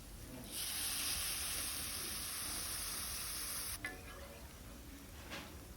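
Water is poured into frying lentils with onion paste in a pan for a banana flower curry, setting off a loud, close hiss that lasts about three seconds before settling back to a quiet simmer.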